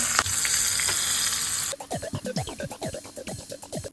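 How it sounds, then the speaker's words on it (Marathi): A spicy tempering of cumin, asafoetida, chili and turmeric hits generous hot oil for a cabbage chatka with a loud, hissing sizzle for under two seconds, then gives way to a quick series of short squeaky, clattering sounds. "सुरचुरीत फोडणी करायची"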